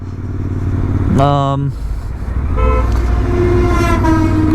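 Royal Enfield Interceptor 650 twin fitted with an S&S camshaft, ridden easily on the road; a steady engine drone with a short horn-like tone near the start and rising notes later, with a voice talking over it.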